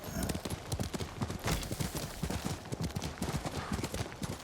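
A horse gallops in Ghost of Tsushima, its hooves drumming in a fast, steady clip-clop rhythm close by that holds for the whole stretch with no voices.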